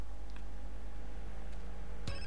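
A synthetic telephone ring in GTA: San Andreas starts abruptly near the end, bright and tonal, after a steady low hum of background ambience.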